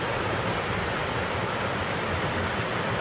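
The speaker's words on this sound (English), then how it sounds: "Look at the pretty nice little brook." Flowing water from 19 Mile Brook along a hiking trail, a loud, continuous rushing wash that stays steady from start to finish with no voices over it.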